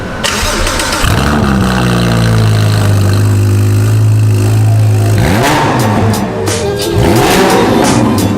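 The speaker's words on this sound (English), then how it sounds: "It sounds so good, and straight through Novitec exhaust as well" A powerful sports car engine fires up and revs hard through a Novitec exhaust, deep exhaust roar rising and falling in several loud sweeps, close by.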